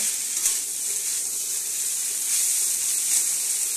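Chopped thor (banana stem) stir-fried in a pan gives a steady, close sizzle and hiss with faint stirring scrapes, heard alone.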